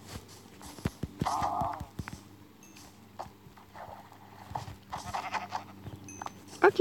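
A few short bleats from a Minecraft sheep, mixed with sharp clicks and thumps of play.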